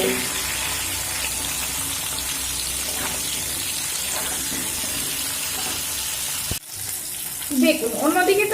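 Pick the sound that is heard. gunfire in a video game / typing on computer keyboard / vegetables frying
vegetables frying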